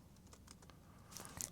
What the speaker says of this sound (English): I'm already tired of typing.